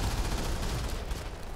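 Dense, continuous automatic gunfire from the mobile shooter game Modern Combat 5 roars steadily and loudly with no voices over it.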